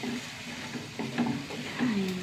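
Food stirred as it fries in a pan, with a steady soft sizzle and a few scraping strokes of the spoon close by, no voices.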